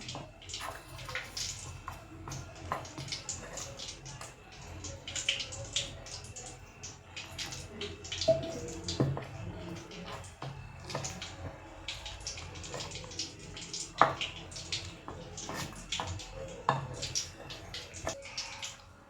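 Wet, squelching sounds of mixing bajji batter for brinjal fritters as water is added bit by bit, with occasional drips and sloshes, steady and close, with no talking throughout.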